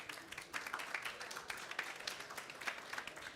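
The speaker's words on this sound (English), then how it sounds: "A massive round of applause for our very insightful panel." Audience applause for a conference panel on nature-based solutions in urban infrastructure, a moderate crowd clapping steadily and evenly at a distance for a few seconds.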